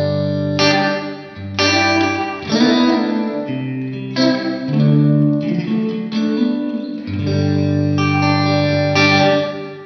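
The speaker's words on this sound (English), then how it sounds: "that's a good example of a reverb that's built in here that's quite full on" Electric guitar chords ring out through a heavy built-in reverb on a Poly Effects Beebo pedal, each strum washing into a long, lush tail that blurs into the next.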